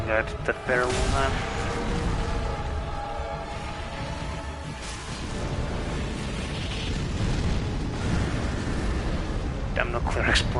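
A massive explosion in Dark Souls 3 erupts as a loud, booming blast that settles into a long, rumbling roar, with a player talking over the game sound.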